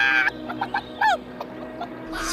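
A cartoon chicken clucks in a few short, bright, squawking bursts, close and clear over a soft background hum in an animated children's show.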